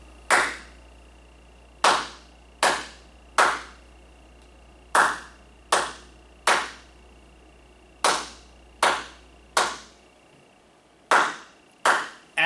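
Single sharp hand claps beat out a rhythm in a music lesson, each crisp clap ringing briefly in a quiet room, spaced unevenly with pauses and pairs across the stretch, no talking over them.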